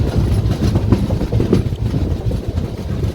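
Jhelum Express passenger train running on the rails, a steady low rumble with rhythmic clickety-clack of wheels over joints, continuous and close, heard from inside the coach with no talking.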